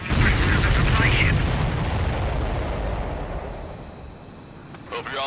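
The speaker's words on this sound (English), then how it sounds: "The missile hit the supply ship dead on." Missile striking a supply ship in Ace Combat 7: Skies Unknown, a loud, close explosive blast with a roaring rumble that slowly decays over several seconds.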